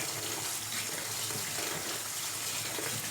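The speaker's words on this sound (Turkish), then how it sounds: "şu şekilde elimizle güzelce yıkayacağız" Black olives being washed by hand in a bowl of water, a continuous close sloshing and splashing without pause, and no one speaking.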